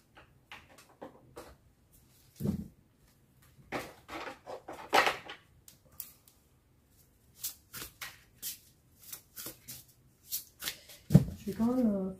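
Tarot cards are shuffled and handled in short bursts of riffling and sliding, separated by quiet gaps, with a few soft taps and a brief voice near the end.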